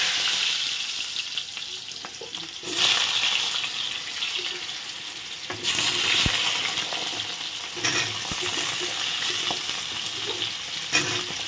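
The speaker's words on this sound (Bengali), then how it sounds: "তেলের মধ্যে প্রথমে আলুগুলো ভেজে নিচ্ছি।" Potatoes frying in hot oil in a kadai, a loud continuous sizzle broken by a few sharp clinks and scrapes of stirring, with no talk over it.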